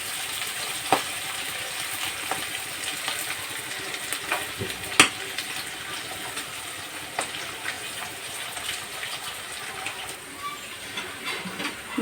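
Garlic and chilli frying in a pan for a Bengali chicken curry, a steady soft sizzle running throughout with a few sharp clicks of a utensil against the pan, no talking.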